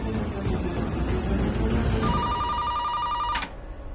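A landline telephone rings during a call placed in a Hindi TV drama scene: a steady electronic ring tone enters about halfway through and runs for over a second over a dense background of music and noise, then cuts off.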